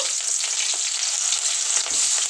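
Onions, curry leaves and dried red chillies frying in hot oil for a chicken curry, a loud, dense, continuous sizzle, close up and with no talking.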